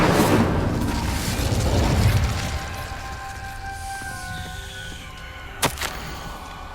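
An Incendio fire spell cast in Hogwarts Legacy erupts in a loud, close burst that rolls into a fading roar, followed by a brief sharp pop near the end.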